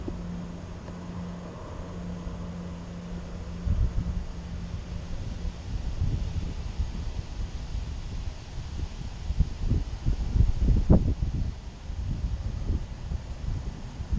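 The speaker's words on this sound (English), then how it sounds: "Yeah, the wind is up right there." Strong wind blows outdoors on a very windy day in a city neighborhood, a steady low buffeting rumble on the microphone that swells into heavier gusts toward the end, with no talking.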